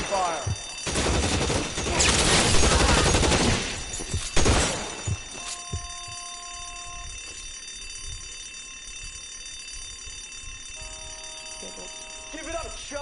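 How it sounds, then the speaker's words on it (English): Suppression gunfire rattles in L.A. Noire as dense, loud rapid bursts for a few seconds, then a single sharp shot before a quieter hum with faint tones. "I'll lay down some suppression fire."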